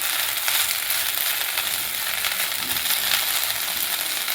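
Washed drumstick leaves frying in a hot pan give a dense, continuous sizzle, loud and close, with faint stirring beneath.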